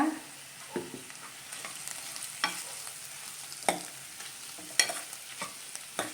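Coriander powder frying in a pan for radish sambar, a soft steady sizzle broken by sharp scraping stirs of a spoon every second or so, close and fairly quiet.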